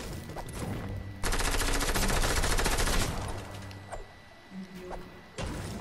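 Rapid automatic gunfire in a battle-royale video game, a loud sustained burst of shots lasting about two seconds, followed by scattered single shots and thumps.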